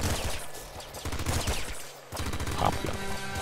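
In the video game Nuclear Throne, a pop gun fires in rapid bursts of loud, dense shots with a short pause near the middle and game sound effects mixed in.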